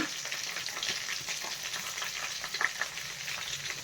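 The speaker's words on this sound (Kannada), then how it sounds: "ಬೆಳ್ಳುಳ್ಳಿ ಎಲ್ಲ ಚೆನ್ನಾಗಿ ಫ್ರೈ ಆಗಬೇಕು" Garlic sizzles steadily in hot oil as a tempering for mango pickle, a close, continuous crackling hiss with a few sharper pops, and no voices.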